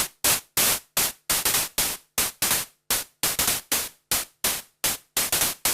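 Short bursts of synthesized white noise in Ableton repeat in a steady rhythm, each a hissy blast that cuts off sharply, with silence in between.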